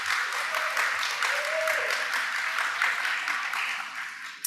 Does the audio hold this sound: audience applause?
yes